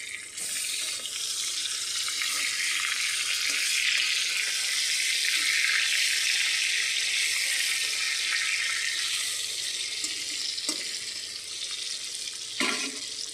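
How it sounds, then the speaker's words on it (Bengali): Fish pieces frying in hot oil for a bean-and-fish parcel dish give a steady, loud broadband sizzle that holds for the whole stretch with no talk, only a few faint clinks near the end. "ওদিকে আমাকে মাছ ভাজাটা এই তেলে ভাজে নেব"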